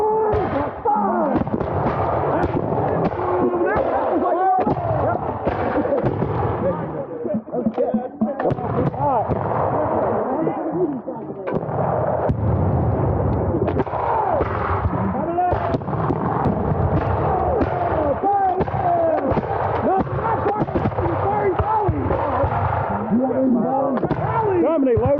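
Musket volleys fired by company at a Revolutionary War battle reenactment of Camden, heavy booming reports rolling almost continuously, loud and close, with shouted commands from men on the field mixed in.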